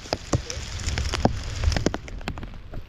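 Steady rain patters on a surface nearby, with scattered louder drops tapping through the continuous hiss.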